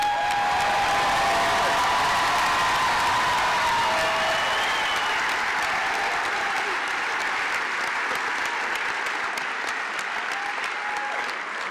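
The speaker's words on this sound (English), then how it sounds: "after that wonderful applause" Sustained applause from a large audience at a university nursing pinning ceremony, steady dense clapping filling the hall for about twelve seconds without letting up, with no talk over it.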